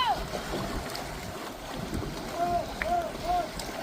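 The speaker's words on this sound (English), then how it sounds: "Are you paddling under the bridge?" A canoe is paddled under a bridge, with water sloshing and wind noise amid chatter, a few high whistle-like calls cutting through.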